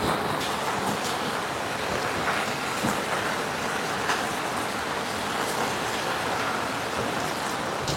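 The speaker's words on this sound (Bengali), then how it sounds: "ভালো বৃষ্টি হচ্ছে।" Heavy rain falls on the mountain road near Zuluk in Sikkim, a dense, unbroken roar of water that stays loud and even from start to finish with no voices.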